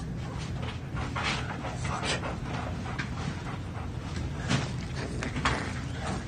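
Puppies in a scene from the TV drama Chernobyl whimpering and panting close by over a steady, busy background noise, with a few sharp knocks or steps scattered through.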